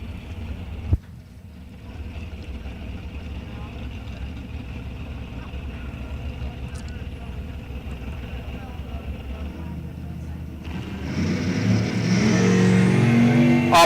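Drag race cars launching down the strip at a Sizzlin' $7,500s event, engines building from a low rumble into a loud rising roar near the end, with commentary voices heard over the steady track noise beforehand.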